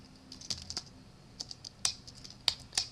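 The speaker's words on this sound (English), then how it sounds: "you can call upon it in the command window by typing in the function name" A function name being typed on a computer keyboard at a MATLAB command window: about eight sparse, irregular keystrokes, close and crisp, with no voices.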